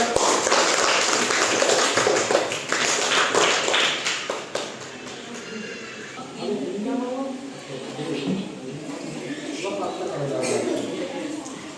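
Applause from a classroom of students in an Indonesian school, a burst of dense clapping for the first few seconds that quickly breaks up and gives way to children's chatter and voices.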